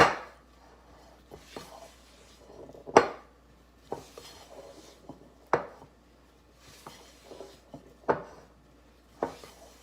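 Cookie dough mashed and scraped in a mixing bowl, with a series of sharp utensil knocks against the bowl at irregular intervals between softer scraping, close up and without talking.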